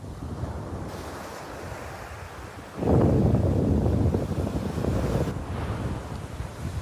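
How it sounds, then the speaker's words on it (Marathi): Sea waves wash onto a beach in a steady roar with wind buffeting the microphone, and a louder surge breaks and rolls in partway through before easing off. "मी इकडे लाटा वगैरे ते समुद्र आहे इकडचा मजा घेण्यासाठी आलेलो आहे"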